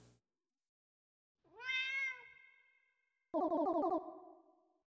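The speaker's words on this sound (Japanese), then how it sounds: "そうだ、猫だ。" A pixel-art cat in the narrative adventure game GOODBYE WORLD gives two clear meows, the first a rising, drawn-out call and the second a shorter, buzzier one, each standing alone against silence.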